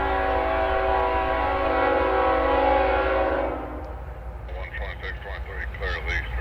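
A freight train passes on a railway line out of Savannah, its horn holding a long, loud, steady blast before fading into rumbling rail-car and wheel noise.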